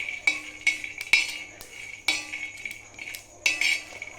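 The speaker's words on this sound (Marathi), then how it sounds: "आता आपले शेंगदाणे आणि थोडेसे जिरे आणि लसूण हे सगळं मी भाजून घेते" Peanuts, cumin and garlic being dry-roasted in a pan, with a spoon scraping and clinking against the metal in sharp, irregular strokes spaced about half a second to a second apart, close and fairly loud.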